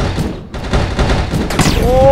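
Grenade blasts in a video game hit as a few heavy thuds and booms with crackling debris, close and loud, while a voice talks over them.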